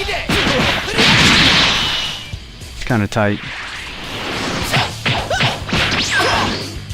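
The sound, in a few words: punches and smashes in Dragon Ball Xenoverse video game fight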